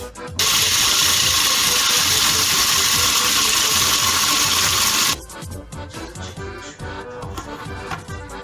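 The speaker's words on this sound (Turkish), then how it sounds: "Şimdi sarı leblebimizi, tuzsuz leblebimizi robotumuza koyuyoruz. Çekeceğiz ve un haline, toz haline getireceğiz." A food processor whirs loudly as it grinds unsalted roasted yellow chickpeas into powder, a dense steady roar for about five seconds, then a rattling clatter of pieces as the blades slow.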